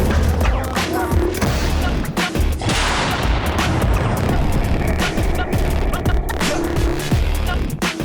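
Artillery gun of the 47th Artillery Brigade firing rounds in a field position, loud dense bursts of blasts and rumbling reports packed across the whole stretch, with no clear gaps between shots.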